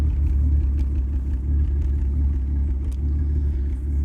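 VR6 engine idling in a MK4 Jetta with a misfire, giving a steady, close, low rumble with a faintly uneven pulse throughout and no talking.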